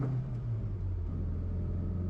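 A classic Mini car's small engine hums steadily from inside the vehicle, a low droning rumble with a constant tone and no voices.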